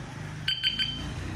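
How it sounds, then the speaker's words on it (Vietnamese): Three short, bright electronic beeps come in quick succession from a Hyperio smartkey anti-theft motorbike lock unit, heard over a low background rumble. "3 nè, thì sẽ kêu lên là 3 tiếng bíp"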